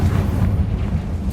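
A Confringo blasting spell explodes in Hogwarts Legacy, a loud, low, rumbling blast that fills the brief moment with a deep boom.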